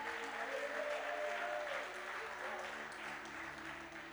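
A church congregation applauds together during a morning worship service, a steady, dense wash of clapping that continues evenly and fills the room at a moderate distance.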